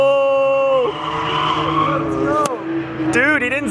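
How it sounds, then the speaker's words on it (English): A Nissan S14 or GT-R drifting at an open drift event, engine droning loudly while tires squeal in rising, wavering bursts, close and dominant. "My boy, Peachy Media, initiating, holding, not much angle, initiating again, hold"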